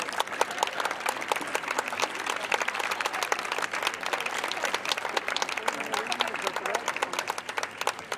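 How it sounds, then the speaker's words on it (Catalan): An audience applauds after a performance by a cobla band at Park Güell. The dense, steady clapping continues at even loudness for the whole stretch, with a few voices faintly mixed in. "Perquè sabíem que aplaudiríeu moltíssim."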